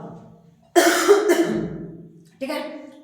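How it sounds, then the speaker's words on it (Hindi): Two harsh coughs up close from a teacher during a cold season, the first a rough double burst, followed by a shorter one after a brief pause. "खांसी हो रहा है क्योंकि ठंडी का मौसम है"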